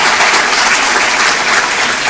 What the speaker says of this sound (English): Can we please have a loud round of applause for all our dignitaries and honorable guests here this morning?